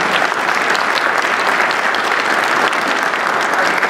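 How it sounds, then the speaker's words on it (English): Audience applause at a journalism conference panel, steady and continuous clapping from a large crowd that holds at an even level with no talking. "Can we get a round of applause, please?"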